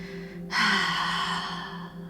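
A single audible breath taken during a calming breathing exercise: a sudden rushing intake that tapers off slowly over a second or so, against a quiet, faint hum.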